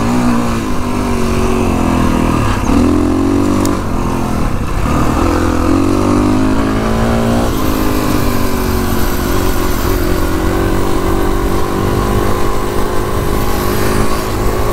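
A Kawasaki KX450X dirt bike ridden along a trail in cold weather, its engine loud and close throughout, revving up and down in bursts with shifting pitch.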